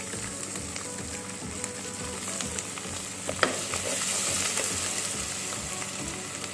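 Ginger garlic paste fries in hot oil with curry leaves and whole spices for Hyderabad chicken pickle, a loud continuous sizzle close up with scraping stirs throughout.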